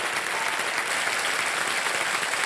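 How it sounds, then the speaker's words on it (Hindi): Studio audience on a Hindi TV quiz show (KBC) applauding, a dense steady burst of many hands clapping that stays loud and even throughout, with no voices over it. "तालियां बच्चू रैन के लिए।"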